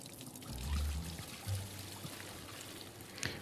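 Water pouring into an aquarium in the Aquarist video game, a soft continuous trickling stream with a few low gurgles, faint and steady with no talk over it.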